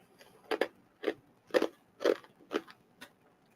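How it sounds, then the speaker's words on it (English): Ice being crunched between the teeth, six sharp, loud bites spaced about half a second apart, each a brittle crackling crunch close to the mouth with quiet gaps between. "yes, I'm crunching ice, I'm sorry."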